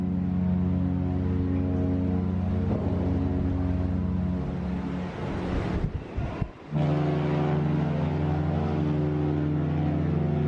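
A cruise ship sails away from port bound for Port Canaveral, its low, steady engine drone filling the scene with broad wind and water noise, briefly dipping and rumbling midway before the steady hum resumes.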